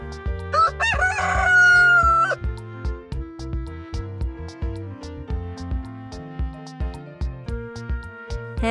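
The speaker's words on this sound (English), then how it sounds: "Rooster." A rooster gives one loud, drawn-out cock-a-doodle-doo near the start, then only light background music plays.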